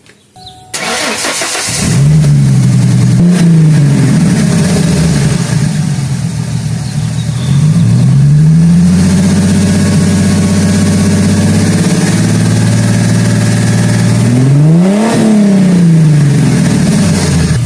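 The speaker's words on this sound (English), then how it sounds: "Let me start it up and give you guys a couple revs" A V6 Ford Mustang with no muffler starts up close by, then idles with a rough, throaty rumble. Two clear revs rise and fall about six seconds apart, the engine settling back to idle each time, with no talking.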